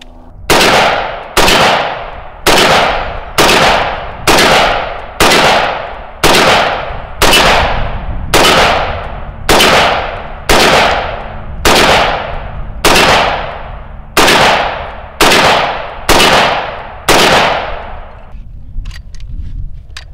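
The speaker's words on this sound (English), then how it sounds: "Now that was a heck of a lot of firing" A 5.45 carbine fires about fifteen evenly spaced, loud, sharp shots at steel targets over twenty seconds, each report ringing and decaying before the next.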